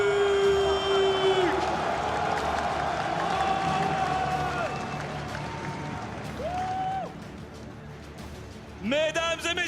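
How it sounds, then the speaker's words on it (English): A large esports arena crowd at an MSI semifinal between RNG and Fnatic claps and cheers continuously under an announcer's amplified voice, with a loud burst of noise near the end. "une dernière salle d'applaudissements pour le Fnatic!"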